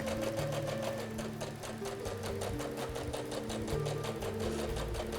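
A sewing machine stitches a straight seam on an evening bag, a steady fast mechanical whirring with even rhythmic needle clatter, close and continuous without a break.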